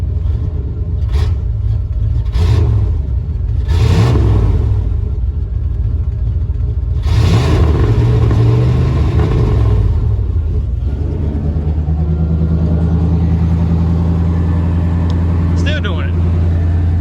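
Engine of a 1993 Chevrolet K1500 pickup running rough and idling high: a heavy, continuous close rumble with uneven surges and stumbles, with indistinct voices over it at times.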